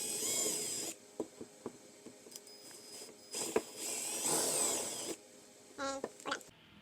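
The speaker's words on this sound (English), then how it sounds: "Step 3, drill out the holes." A power drill bores holes into a kayak hull to mount a Scotty 241 rod holder, with several short high-pitched whining bursts separated by pauses and small clicks, close and fairly loud.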